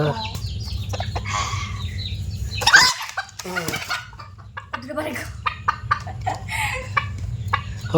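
Chickens cluck and squawk close by, with a sudden flurry of flapping and people talking in the background.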